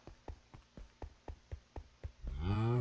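A cow in Minecraft lets out a long, loud moo after a run of evenly spaced soft thumping footsteps.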